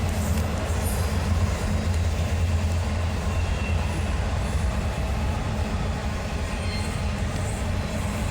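A BNSF freight train rolls past at night near La Crosse, Wisconsin, a loud, continuous rumble and clatter of wheels on rail that stays steady close by, with no voices.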